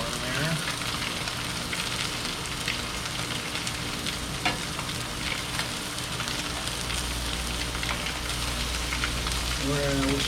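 Blackened mahi mahi fillets sizzle and fry steadily in a hot pan, a dense continuous crackle and hiss that holds at an even level throughout with no talking.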